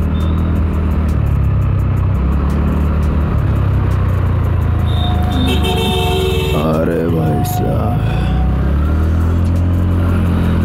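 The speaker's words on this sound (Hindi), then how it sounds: "हम गाड़ी को थोड़ा भगाते हैं, जल्दी पहुंचने की कोशिश करते हैं।" A car is driven faster along a road to arrive sooner, with a loud, continuous engine rumble and road noise that stay close throughout.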